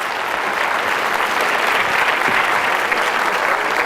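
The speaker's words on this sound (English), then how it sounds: "Round of applause." Loud, sustained audience applause at a stage hypnosis show, a thick, even roar of many hands clapping that carries on for several seconds without a break.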